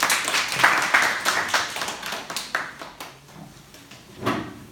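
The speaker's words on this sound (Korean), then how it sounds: "다시 한번 박수" Scattered clapping from a small group after a corporate training team presentation, uneven individual claps that thin out and fade over a few seconds.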